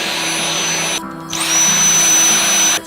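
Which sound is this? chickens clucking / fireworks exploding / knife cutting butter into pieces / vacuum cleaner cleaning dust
vacuum cleaner cleaning dust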